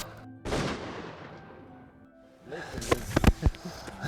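A rifle shot fired at a stag on a free-range hunt in Patagonia, a sharp loud report near the start followed by rustling and a burst of several close knocks and thumps toward the end.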